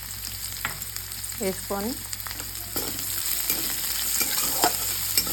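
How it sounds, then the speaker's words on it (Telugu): Onions fry in oil in a pan, giving a constant close crackling sizzle broken by short scrapes of stirring, with a faint tone drifting through the background. "ఉల్లిపాయ బాగా వేగనిచ్చి"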